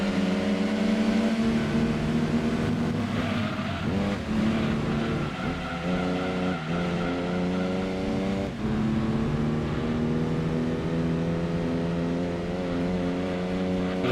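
A Mercedes racing engine hums steadily while cornering in Gran Turismo 2 on PS1, its tone rising and falling with throttle through a long corner, loud and close, with no talk.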